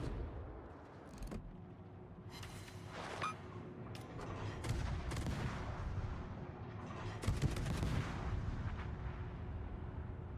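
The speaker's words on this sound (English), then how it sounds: "I got too many guns, so I can't turn it up again because I need to shoot." Naval guns firing from warships in World of Warships, with heavy booming salvos overlapping in a dense, continuous barrage of loud blasts and rumbling throughout.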